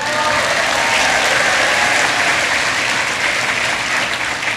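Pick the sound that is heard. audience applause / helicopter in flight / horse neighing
audience applause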